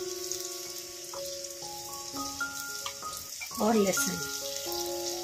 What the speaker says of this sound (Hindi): इन सबको हम अच्छे से सॉटे कर लेंगे, यानी कि भून लेंगे 2 मिनट तक